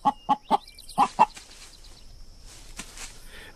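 Hens cluck close by in a quick burst of five sharp, rhythmic calls, then fall to a quiet murmur with faint calls farther back.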